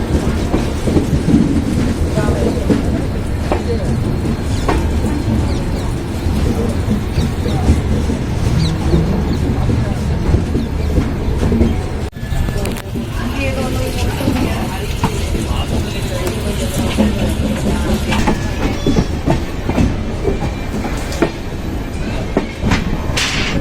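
Kota Katra Express train running on rails on the New Delhi to Katra route toward Jammu, a steady loud broadband rumble with rhythmic clatter, heard from aboard the train and continuing unbroken throughout.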